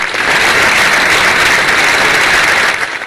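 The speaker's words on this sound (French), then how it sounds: "elle mérite des applaudissements" Loud, thick applause from a studio audience on a French-language school competition broadcast, a continuous roar of many hands clapping that stays full throughout before easing slightly at the very end.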